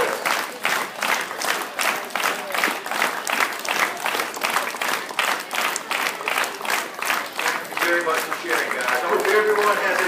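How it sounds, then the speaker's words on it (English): A school assembly audience claps through a round of applause at the first flag ceremony of 2015, the claps falling in a loose, regular pulse, with a voice rising over the clapping near the end. "Let's give everybody a big hand, a round of applause"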